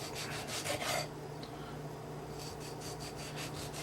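A knife cuts through a tomato with soft, close rasping strokes in two short bouts and a quiet gap between them. No speech.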